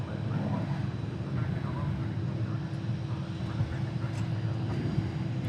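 A Delta Airlines airplane departs at DFW airport, its engines a steady, low, broad roar that holds evenly throughout with no voices.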